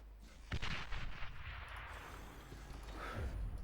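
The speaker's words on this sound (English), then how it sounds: "I got a Wolverine that's firing away at this LLT." Wolverine artillery unit in the real-time strategy game Beyond All Reason firing on a light laser tower, a series of deep booming shots with dense battle noise throughout.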